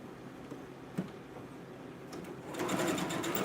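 A sewing machine runs a line of stitching along the side of a pocket near elastic, a close, even mechanical whir that grows louder and busier over the last second.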